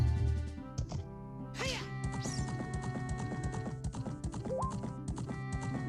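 A horse gallops in Zelda: Ocarina of Time on the N64, its rhythmic clip-clop hoofbeats running steadily over game music, with a brief whinny near the start.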